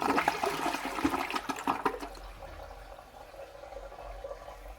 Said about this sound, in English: And here we go, flush.